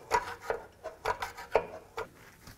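A brake adjuster wheel on a 2009-2018 Ram 1500 rear drum brake is turned with a brake spoon, giving a series of short scraping, ratcheting clicks in an irregular rhythm, close and fairly quiet.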